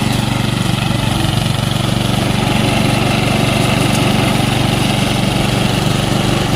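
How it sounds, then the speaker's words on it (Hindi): A small multi-crop paddy thresher running on its own engine, without a tractor, drones loud and steady nearby with an even mechanical vibration. "ये बिना ट्रैक्टर के चलने वाली पहली थ्रेशर मशीन हमने बनाई हुई है।"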